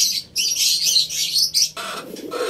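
Birdsong fills the scene where a homing pigeon has flown back, with steady chirping and high calls running close and fairly loud throughout, shifting to a lower, busier texture near the end.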